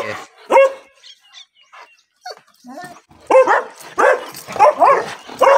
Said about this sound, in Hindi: बड़ा कुत्ता